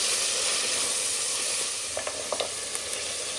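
Carrot and tomato fry and get stirred in a pan, a loud, steady close sizzle with a few soft scraping knocks of the spoon near the end.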